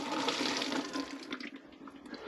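Thick rust-proofer liquid is poured into an old plastic bottle, giving a short, quiet gurgling trickle with a light splashy texture and no talk.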